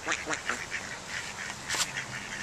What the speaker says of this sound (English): And now duckies. Quack quacks.